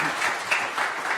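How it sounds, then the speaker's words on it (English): An audience at a cyber skills and education event applauds the panel, a steady wash of clapping that holds throughout the short burst. "So I'll get everyone here to give the panel a round of applause before we go to Q&A."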